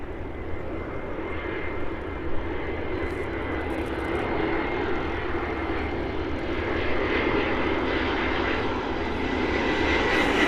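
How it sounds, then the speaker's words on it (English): Aircraft engines as planes depart East Midlands Airport in the morning, a loud, sustained roar that swells gradually, with a faint higher whine above it and no talking. "all of these aircraft start to depart from East Midlands"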